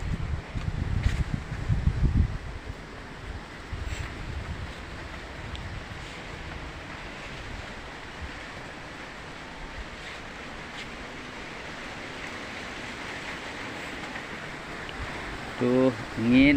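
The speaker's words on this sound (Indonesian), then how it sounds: "Tuh, angin bikin kaget orang tidur." Strong wind blows steadily outdoors, a broad, rushing roar with gusts buffeting the microphone close by, heavy at the start and swelling again near the end.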